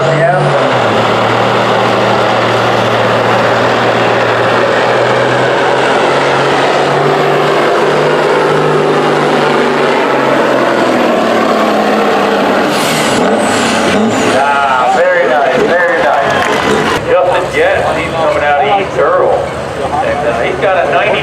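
Semi truck at a truck pull competition revving its engine up, a loud, rising diesel roar that climbs in pitch and builds over twenty seconds, with an announcer talking over it.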